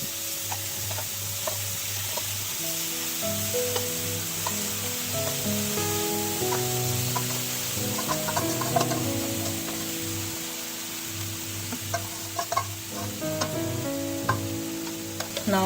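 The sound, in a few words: paneer tikka pieces sizzling as they fry on a tava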